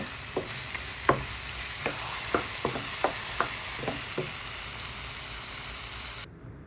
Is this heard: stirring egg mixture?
yes